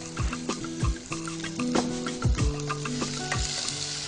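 Potatoes frying in olive oil in a pan, a close, bright sizzle with repeated thumping stirs and tosses at an uneven rhythm, no speech.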